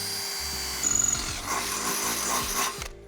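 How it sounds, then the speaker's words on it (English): A power drill boring holes through a step mount bracket on an Evolution D5 Ranger 4 golf cart, with short close whirring bursts and some rubbing and handling noise between them. "I'm gonna drill my holes from the other side."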